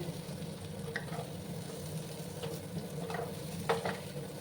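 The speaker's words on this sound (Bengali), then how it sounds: "আর একটু ভাজা ভাজা করে নেব।" Pointed gourd and small shrimp fry in a pan, giving a soft steady sizzle with occasional stirring clinks and scrapes, close and fairly quiet, no talking.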